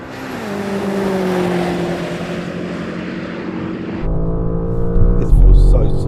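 A race car engine in a racing video game roars steadily, with its pitch sliding and shifting through gear changes. It rises to a louder, harsher whine near the end and stays continuous throughout.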